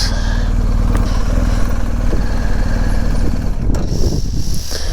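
Motorcycles, including delivery bikes, rumble close by with a loud, continuous engine drone and clatter, then a brief burst of rising engine noise near the end.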